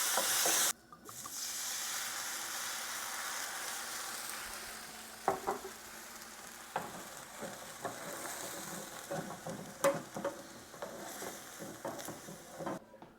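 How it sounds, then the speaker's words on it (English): Beer poured into a hot pan of browned steak pieces, a sharp burst of hiss that settles into a steady bubbling sizzle, broken by occasional scraping and clinks of a utensil on the pan, close and with no voices. "We're going to add a little bit of beer to that and deglaze that."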